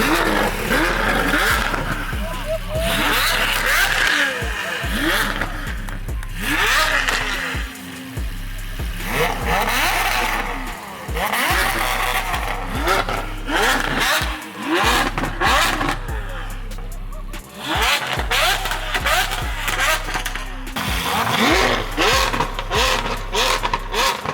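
A Ferrari 812 engine roars and revs repeatedly in rising bursts, with pops and crackles between pulls, close and aggressive.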